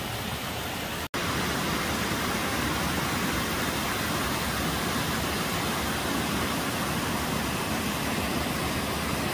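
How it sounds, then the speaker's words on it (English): Huntsman Creek Falls in the mountains gives off a constant, heavy rush of water close by, broken only by a single very brief dropout near the start. No one speaks. "Huntsman Creek Falls."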